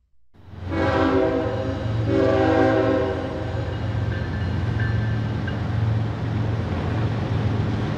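A model diesel locomotive runs steadily, its deep engine rumble holding throughout while a multi-tone horn sounds loudly near the start and fades into the engine drone.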